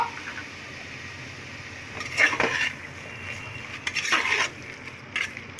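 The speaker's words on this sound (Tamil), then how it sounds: "இதே நம்ம நல்லா mix பண்ணிக்குவோம்." Mutton kari paniyaram batter with red chilli sauce being stirred and mixed in a bowl, giving soft scraping and clinking bursts at intervals over a quiet kitchen background, with no talk.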